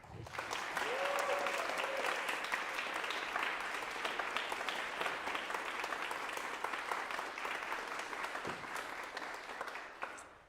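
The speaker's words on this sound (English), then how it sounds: "with a huge round of applause" A concert audience in a hall gives a long, dense round of applause that holds steady for several seconds before gradually thinning near the end.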